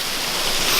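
A waterfall roars in a steady, dense rush of white water that stays even and unbroken throughout, with no other sounds standing out.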